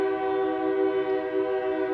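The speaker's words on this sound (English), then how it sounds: "I knew this train was going to be a problem." A passing train sounds a long, steady, loud horn over a low rolling rumble of wheels, continuous for the whole moment with no voices.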